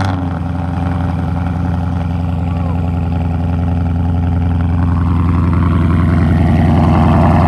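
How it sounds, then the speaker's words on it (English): A Ford Mustang with blown-out catalytic converters fires up from cold and settles into a loud, steady rumbling idle that grows slightly rougher toward the end, close and continuous. "now let's go ahead and get you guys a cold start"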